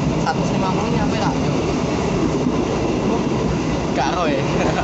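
The Blora Jaya passenger train runs near Semarang, heard from on board as a constant loud rumble of wheels and carriage noise, with faint voices in the mix.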